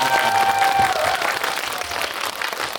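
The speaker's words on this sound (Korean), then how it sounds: "박수 한번 보내주시면 감사합니다" An audience at a film screening Q&A applauds the director, a loud, dense burst of clapping from the crowd that thins slightly as it continues, with faint voices underneath.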